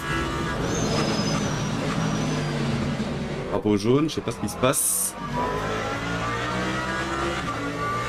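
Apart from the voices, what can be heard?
Lamborghini race car engine in Le Mans Ultimate video game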